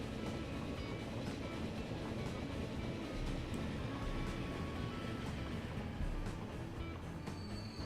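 A train pulls into Detroit station in the Transport Fever video game, a steady rumble of rolling wagons and rail noise with faint wheel clatter, held at an even level throughout and without any talk.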